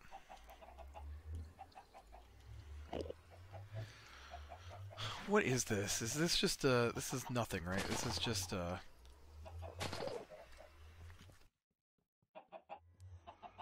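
Chickens cluck in the Minecraft modpack FTB Infi-Tech 2, repeated short clucks and a crow-like call heard faintly under someone talking, with a louder burst of game noise in the middle.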